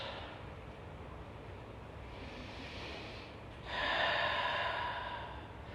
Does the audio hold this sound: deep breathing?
yes